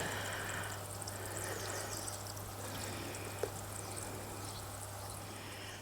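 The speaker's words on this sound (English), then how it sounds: "So the last thing we need to do is to give them a good drink of water." Water pours steadily from a can or hose onto newly planted peppers in a garden raised bed, a continuous soft splashing wash with a single small tap partway through and no talking.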